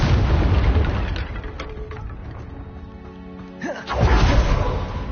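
A Confringo fire spell from the Hogwarts Legacy video game bursts with a loud, rumbling explosive boom, followed by a fading roar and a second heavy blast near the end.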